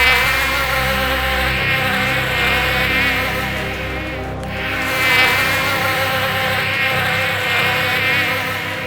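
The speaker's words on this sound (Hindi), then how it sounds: "वहीं से पता चलेगा इस मक्खी की आवाज वाले मोटर का।" A small toy motor gives off a continuous insect-like buzz like a housefly, loud and close, with a steady whine that dips briefly midway and then resumes.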